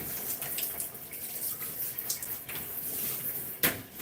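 A tap runs steadily as water flows during a hair wash, a constant broadband rush with a few faint knocks and one brief louder splash near the end; no talking.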